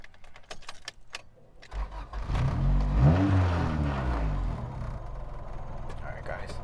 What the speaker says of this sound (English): I'm going to go ahead and start the vehicle up real quick so you guys can go ahead and see what it sounds like